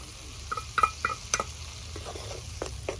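Tomato paste and vegetable masala sauté in a pan for chicken potol curry, a low steady sizzle punctuated by crisp spatula taps and scrapes, close up and without voices.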